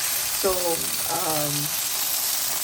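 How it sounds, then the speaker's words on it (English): Okra and meat frying in about two tablespoons of oil on a stove, a steady sizzle running under the whole clip while a voice speaks briefly over it. "I am doing frying a little bit in 2 tablespoon oil"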